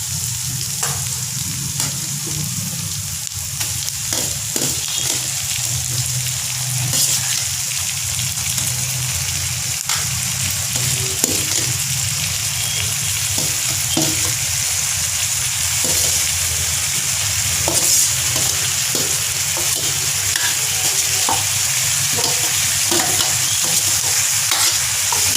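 Onions and tomatoes sauté in a pan for a village-style duck curry, giving a steady, loud sizzle throughout with occasional stirring scrapes and no voices.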